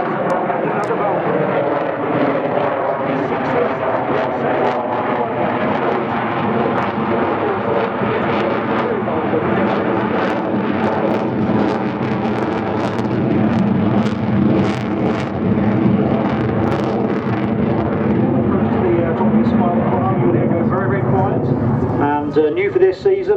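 Avro Vulcan XH558 jet bomber performing a flying display at RAF Waddington, a loud sustained roar of jet engines rising and falling throughout, with a commentator talking over it.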